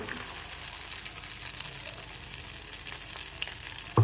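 Spice paste with ginger and a splash of water sizzling and frying in a pan for dahi aloo dum, a steady dense hiss with faint scraping from stirring, close and continuous with no voices.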